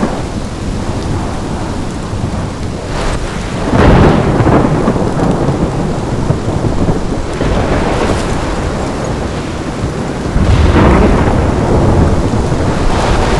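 Thunderstorm in the video game Life Is Strange, with steady heavy rain and repeated rolling thunder claps swelling loudly around four, eight and eleven seconds, no voices.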